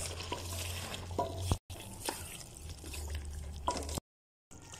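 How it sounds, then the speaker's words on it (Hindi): Powdered spices, crushed dried coriander and white cumin among them, stirred in a frying pan for a dhaba-style gobi chicken, with a steady sizzle and scraping strokes close by, briefly cut off. "पाउडर मसालों को अच्छे से मिक्स करेंगे।"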